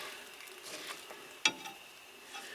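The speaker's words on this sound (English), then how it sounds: "Then just give it a stir" Bulgur wheat and quinoa being stirred in a pan on a camper van stove: soft scraping and light sizzling, with one sharp clack of the spoon against the pan midway.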